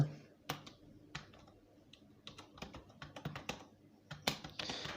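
Quiet typing on a computer keyboard, irregular clusters of sharp key clicks at close range, with faster bursts toward the end and no talk.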